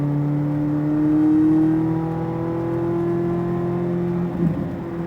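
Corvette Z06 engine on the SpeedVegas race track, heard from inside as a steady droning hum that holds a fairly even pitch, slightly swelling and easing, with a brief bump near the end.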